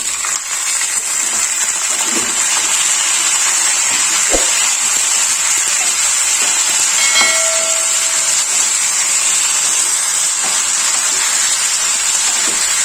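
Chopped tomatoes go into hot oil in a pan for an Andhra-style tomato chutney, giving a steady, loud hiss of sizzling that continues unbroken with a few faint clinks.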